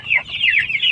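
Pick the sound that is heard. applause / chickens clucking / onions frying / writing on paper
chickens clucking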